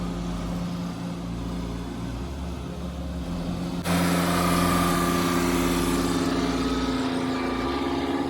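An old John Deere tractor engine idles with a low, steady drone, then abruptly revs up louder and keeps running at a higher, constant pitch.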